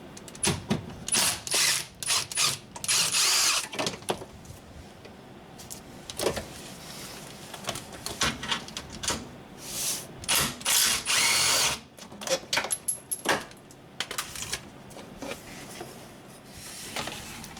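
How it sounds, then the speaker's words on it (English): A ratchet fitted with a 10mm socket works loose two bolts on a Honda/Acura oxygen sensor cover, giving bursts of close clicking and mechanical rattling separated by short pauses. "using a 10mm socket, we'll just pop these 2 bolts out."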